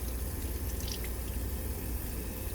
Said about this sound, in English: now I'm going to rinse